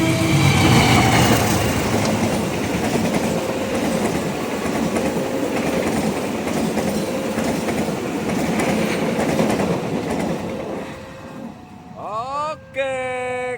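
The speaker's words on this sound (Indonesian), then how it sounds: "ada kereta api yang sedang melintas di perlintasan" A train rolls over a railway crossing bridge in Indonesia with a continuous loud rumble and clatter of wheels, ending with squealing, tonal screeches as it clears; a voice talks over parts of it.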